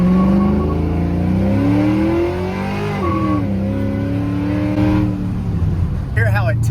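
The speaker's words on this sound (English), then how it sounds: "if I was to just dead stop and then let off the brake and hit the gas pedal" A truck engine idles low, then its pitch climbs and sags as it revs from a dead stop, loud and close, with a brief hiss near the end.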